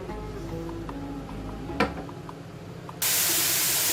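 Chopped onions cooking in a hot dry pan with no fat, a steady hiss with one brief knock partway, then a sudden louder rush of sizzle for the final second.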